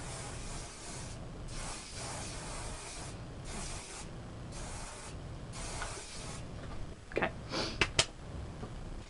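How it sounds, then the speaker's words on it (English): Hairspray from an aerosol can sprayed onto hair in several hissing bursts of a second or two each, with short pauses between, followed by a few light clicks and taps near the end. "you just want to hairspray it"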